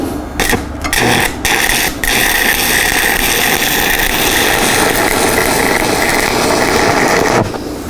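Loud, steady crackling and buzzing of a stick welder arc welding thick metal at 160 amps, with a few brief stuttering bursts at the start before it settles into a continuous sizzle.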